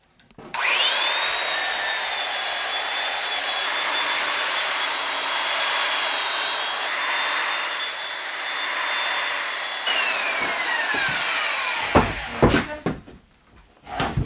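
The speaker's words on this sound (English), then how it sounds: "now what I'm going to do is I'm going to belt sand one face of the wood" A belt sander runs over the face of a wood board, a loud steady whine with grinding friction for about ten seconds before winding down into a few knocks and handling sounds.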